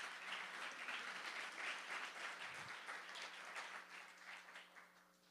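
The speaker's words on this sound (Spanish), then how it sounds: "Denle un aplauso al Señor, por favor" A congregation at a church service claps in sustained applause, a dense, fairly faint wash of hands that gradually thins toward the end, with a low hum running underneath.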